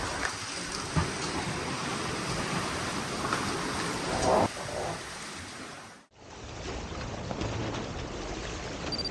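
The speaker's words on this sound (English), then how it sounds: "You can see the rain is quite heavy." Heavy rain pours steadily onto a Seawind 1170 catamaran at sea, a loud, dense hiss with low rumbling, broken by a brief dropout before resuming.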